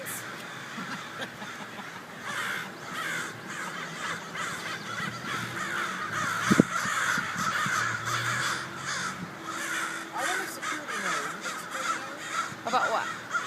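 A flock of crows caws repeatedly at a shopping plaza, harsh calls overlapping steadily throughout, with people talking intermittently underneath and a brief sharp knock midway.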